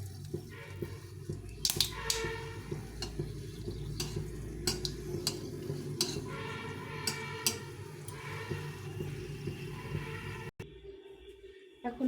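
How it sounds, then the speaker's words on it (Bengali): Two dried red chillies frying in a pan, a soft continuous sizzle with frequent light metallic taps and scrapes of a spatula against the pan, then a brief near-silence at the end. "এখন দুটো শুকনো লঙ্কা ভেজে নেব"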